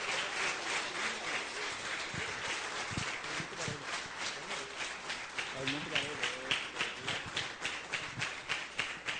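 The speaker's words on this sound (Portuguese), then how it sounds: "Uma salva de palmas para Jesus esta noite." Church congregation applauding, a steady patter of many hands clapping with rhythmic beats growing more pronounced, moderately distant and fairly quiet.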